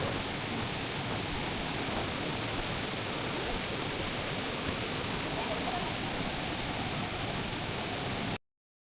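A waterfall on Lotus Stream in Hong Kong rushes in a steady, dense wash of noise that holds constant before cutting off abruptly.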